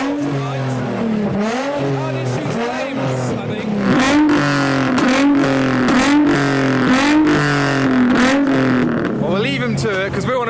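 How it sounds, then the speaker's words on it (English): Several cars rev their engines hard at a car meet, loud overlapping rising and falling revs in repeated pulses, close by and continuous, with voices faintly underneath. "Everyone's revving now."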